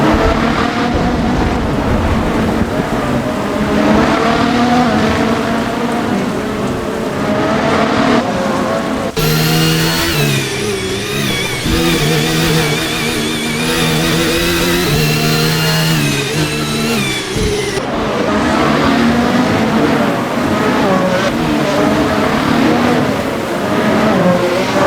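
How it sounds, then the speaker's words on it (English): Formula 1 race cars at the 2024 Bahrain Grand Prix scream past, with high-pitched engine whines rising and falling as they accelerate and pass. A louder, closer car dominates the middle stretch, and the engines run continuously throughout. "it's now Piastri who found the slipstream of Hamilton's car"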